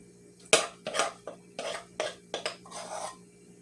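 A utensil scrapes and taps against a 13x9 pan while icing is spread over a hot Texas sheet cake, making a series of sharp clinks and scrapes at irregular intervals under a steady low hum.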